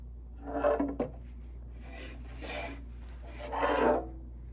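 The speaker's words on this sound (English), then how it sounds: "Now we're gonna add flour and flour all sides." Flour rasps and rubs across the sides of a Pullman loaf pan in three soft scraping passes over a steady low hum.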